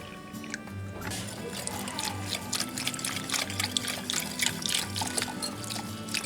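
Cold milk pours steadily into a bowl for instant vanilla pudding mix, a continuous close trickle and splash lasting several seconds with faint kitchen background noise.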